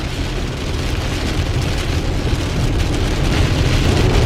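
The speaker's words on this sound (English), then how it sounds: "it's raining out there" Rain drums steadily on a Tesla from inside the cabin, a loud, dense, continuous roar of drops hitting the car with a low rumble underneath and no talking.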